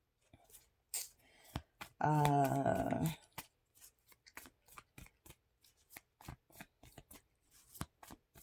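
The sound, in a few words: shuffling tarot cards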